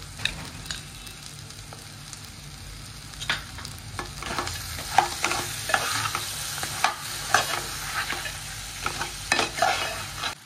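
Small crabs being sautéed with tamarind juice in a pan, a continuous sizzle broken by repeated scraping and stirring strokes of a spatula, close and fairly loud with no talking.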